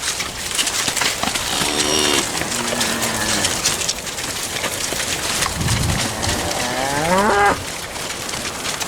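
Dairy cattle, heifers and dry cows, moo loudly and close by, several long, drawn-out calls one after another, with a steady patter of rain in the background during floods.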